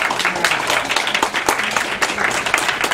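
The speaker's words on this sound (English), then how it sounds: "Give them a big round of applause" Audience clapping for a woman named Jackie standing up at a cancer prevention gathering, a lively uneven round of applause from a room of people, fairly close and loud, with a voice speaking briefly over it.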